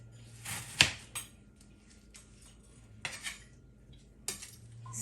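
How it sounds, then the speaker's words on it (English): A knife chopping a tomato on a plate, a few sharp metallic clacks of blade on the plate spaced irregularly, close and crisp against quiet background, with no talk. "I'm going to chop my tomato"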